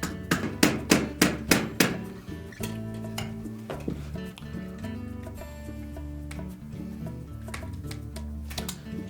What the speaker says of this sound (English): Now you may use a small soft face hammer and just tap that gently.